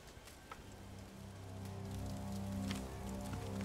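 Rain falling in the video game Tomb Raider, a soft, continuous patter with scattered drops under a low, steady droning backdrop, moderately quiet and without voices.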